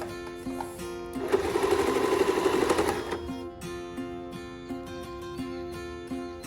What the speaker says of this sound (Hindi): ये देखें इस तरह से हम सिलते जाएंगे इसको